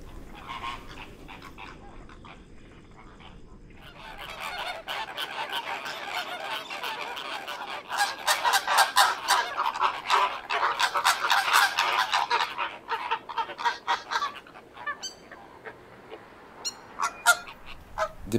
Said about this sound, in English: I notice a flock of flamingos in the swamp not too far from me